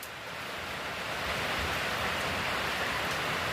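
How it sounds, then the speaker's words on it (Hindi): Heavy rain pours steadily in a hill village in Uttarakhand, a dense, even hiss that swells slightly and then holds at a constant, close, full roar. "तेज बारिश लग चुकी है।"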